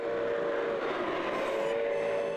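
Model train running on a garden railway display layout, a steady continuous rumble with a sustained tonal hum, fairly loud and unbroken throughout, with no talking.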